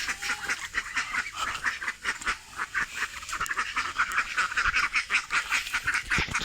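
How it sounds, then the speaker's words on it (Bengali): White ducks quacking near a canal, a lively run of repeated nasal calls overlapping one another, fairly close and steady throughout with no talking. "দেখো সাদা হাঁস"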